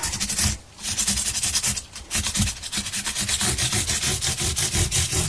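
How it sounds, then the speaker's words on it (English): Steady back-and-forth rubbing of sandpaper smoothing the frets and binding of an Electra guitar during a refret, a dense continuous scratchy rasp with brief pauses, close and moderately loud. "I'm going to go back to sandpaper on here and just see how long it takes to get it smooth"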